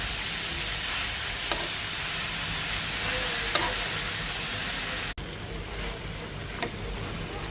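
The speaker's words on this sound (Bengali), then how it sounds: "শাকটা দিয়ে আবার কয়েক মিনিট নাড়াচাড়া করব।" Greens and potatoes frying with dried fish in a pan, a constant crackling sizzle with a few sharp stirring clicks and one abrupt cut partway, close and steady, no talk.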